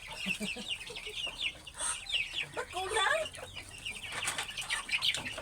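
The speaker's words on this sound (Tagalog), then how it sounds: "Lahat ng kulungan guys, oh, punong-puno ng manok." A crowd of caged chickens on a farm cluck and squawk continuously at close range, their calls layered and busy, while a person briefly speaks over them.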